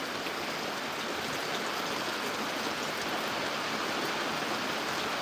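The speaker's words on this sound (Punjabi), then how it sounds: "ਤੁਸੀਂ ਦੱਸੋ ਕਿੱਥੇ ਕਿੱਥੇ ਅੱਜ ਇਹ ਵਾਲਾ ਮੀਂਹ ਪੈ ਰਿਹਾ" Steady rain falls as a constant, even hiss with no pauses, fairly quiet and without any voices.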